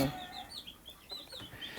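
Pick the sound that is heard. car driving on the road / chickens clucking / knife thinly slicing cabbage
chickens clucking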